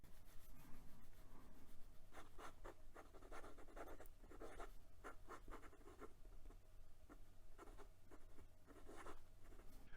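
A Jinhao 100 Centennial fountain pen with a nib that gives feedback, scratching across paper in close, soft, steady strokes, with short pauses between words and no talking.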